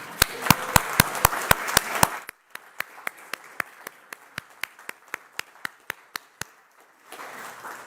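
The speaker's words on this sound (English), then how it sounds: "Give yourself a cheer and a round of applause for an incredible," A congregation at a church service claps in a sharp, evenly timed rhythm, quick crisp beats at first, then a hush followed by a slower steady run of single claps, before the room noise swells again.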